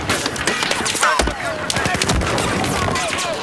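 Rapid gunfire crackles through a Battlefield 4 match, dense overlapping shots and bursts filling the scene with a loud, continuous battle din.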